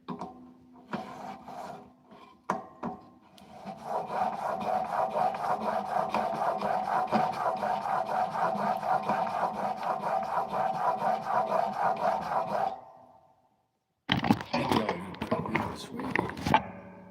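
A steel blade is pushed in rhythmic strokes across a 400 grit whetstone, a gritty rasping scrape repeating steadily for several seconds, broken by short pauses, close and clear.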